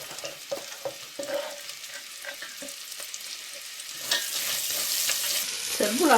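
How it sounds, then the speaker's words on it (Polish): Chopped onion and leek sizzle in hot fat for a white-sausage bean soup, with steady frying under scraping and stirring in the pan and a louder hiss toward the end. "na tym tłuszczu zaraz będę podsmażać cebulę. I oczywiście pora"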